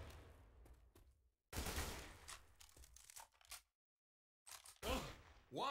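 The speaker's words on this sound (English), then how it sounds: "Watch where you're shooting!" Gunfire in the zombie shooter Left 4 Dead 2 comes in loud, dense bursts separated by short silent gaps, with the clatter of shots crowding together in rapid volleys.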